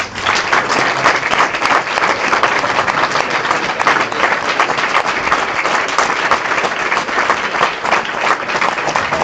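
Sustained audience applause after a political speech at a regional Democratic Party meeting in Veneto, a dense, even wash of many hands clapping at steady loudness throughout, with no voices rising above it.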